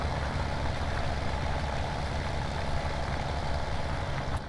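A tractor engine in Farming Simulator 17 drones steadily while plowing a field, a throaty low idle-like rumble holding a constant level with no breaks or voices.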